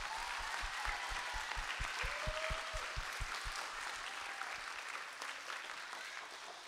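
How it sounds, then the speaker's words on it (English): An audience at a grade 4 and 5 spring music concert applauds steadily for several seconds, a dense wash of clapping that slowly fades toward the end. "Can we give your parents a round of applause"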